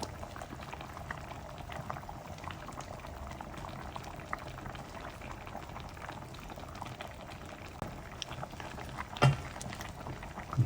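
Sinigang na bangus, a sour milkfish broth with eggplant, bubbles in a pot with a steady close burble and soft popping, plus a couple of brief louder clinks near the end.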